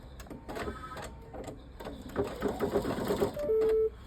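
A Pfaff Creative 3.0 embroidery machine starts stitching a selected design, giving a close run of quick rhythmic needle clatter after a few short mechanical clicks, ending in a steady beep-like tone.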